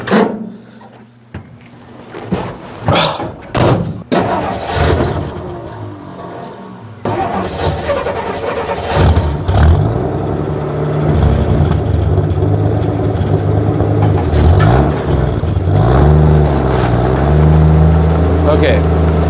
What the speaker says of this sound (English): Let's go ahead and drive it back around, and we'll make our way back to the garage